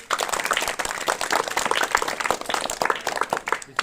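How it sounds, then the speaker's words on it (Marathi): Schoolchildren clap together in a classroom quiz at a rural primary school, a dense, steady burst of many hands lasting several seconds before tapering off. "टाळ्या."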